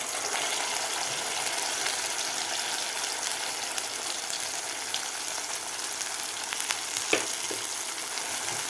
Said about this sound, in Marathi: मसाला आपल्याला व्यवस्थित परतून घ्यायचा आहे